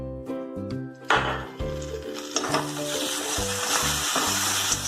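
Tomato puree frying in a pan on a medium flame for a mutton kofta curry, a continuous bright sizzle rising after a brief pause and playing under tuneful background music.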